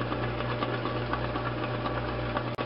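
A bread machine mixes dough with a steady mechanical hum and low motor drone, carrying a faint rhythmic knocking throughout.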